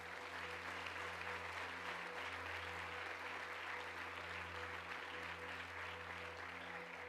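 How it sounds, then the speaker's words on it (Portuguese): A church congregation claps steadily, soft and somewhat distant, with no breaks. A constant low electrical hum sits beneath it. "Você pode dar um aplauso ao Senhor."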